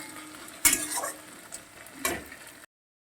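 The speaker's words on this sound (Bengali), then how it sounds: "টমেটোটাকে একটু নাড়িয়ে ছাড়িয়ে নেব" A spoon scrapes and stirs through tomatoes sizzling in a pan, with a couple of sharp clatters against the metal.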